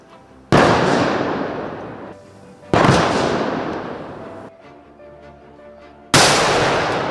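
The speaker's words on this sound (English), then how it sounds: "Upon arrival, the president proceeded to State House, where he received a 21-gun salute." Ceremonial 21-gun salute at a State House during a presidential state visit in Kenya, with three loud booming shots spaced about two seconds apart, each rolling and echoing away before the next.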